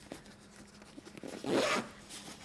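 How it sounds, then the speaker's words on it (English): A zipper pulled along in a quick rasping run, a few short tugs first, then one louder, longer zip near the end; close and fairly quiet. "So the front pocket here can be zipped."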